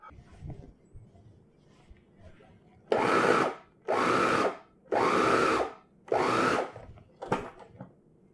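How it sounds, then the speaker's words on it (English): A food processor pulses shrimp in five loud, whirring bursts of about a second each, separated by short pauses, after a quiet stretch of kitchen handling. "we're going to go ahead and pulse the shrimp"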